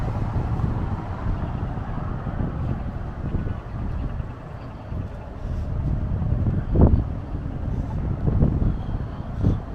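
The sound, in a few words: wind blowing on the Las Vegas Strip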